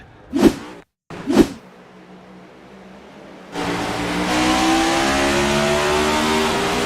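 A Cup Series race car revs with two sharp engine blips, then a loud rising engine roar builds and holds as it pulls away after spinning its tires on a misshift.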